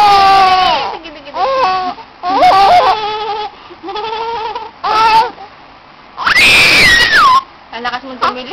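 A baby screams loudly and very close, in a series of shrill, rising and falling bursts separated by brief pauses.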